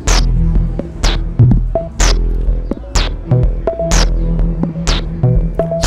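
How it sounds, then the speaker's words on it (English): A repeating electronic drum pattern from an IK Multimedia UNO analog synthesizer: punchy synthetic kick, hissy noise snare and pitched tom hits in a steady, looping rhythm. "a drum pattern where he goes from a kick drum sound to a snare drum sound to a tom sound"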